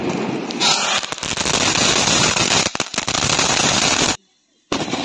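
A large bullet bomb firecracker goes off during a Diwali cracker test, a loud, dense crackling blast with rapid pops lasting several seconds, a brief near-silent gap, then more crackle.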